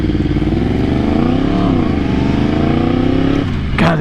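A 2018 Yamaha MT-10 motorcycle engine revs loud and close, holding a steady, rising drone before dropping off near the end with a short sharp burst.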